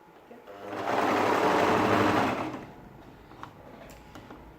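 A sewing machine runs in one steady burst of about a second and a half, stitching a ladies' shirt dress, with quiet handling noises before and after.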